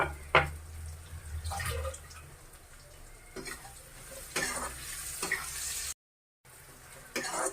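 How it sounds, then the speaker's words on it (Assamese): Ginger garlic paste frying in a pan for a pork curry with mustard greens gives a steady close sizzle. Several sharp stirring scrapes break through it, with a brief silent gap near the end. "এতিয়া ইয়াত মই পিচি লোৱা আদা আৰু নহৰু পেষ্টটো দি দিছোঁ। তাৰপিছত এইখিনি অলপ সময় ভাজি"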